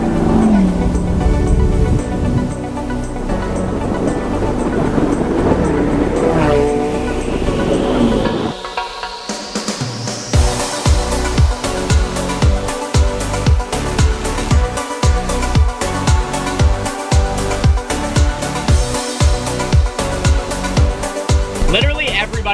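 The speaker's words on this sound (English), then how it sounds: "Bunch of cars headed this way." A bunch of cars at a drag strip approach and pass, engines building into a rising whine and then a steady run of rhythmic throbbing pulses, fairly loud and close.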